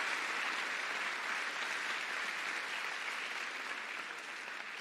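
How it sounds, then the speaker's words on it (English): Steady applause from a chapel audience for an athletic team, dense and unbroken, with no voices over it. "Give a big round of applause for our athletic team."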